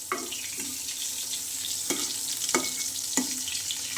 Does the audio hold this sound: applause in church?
no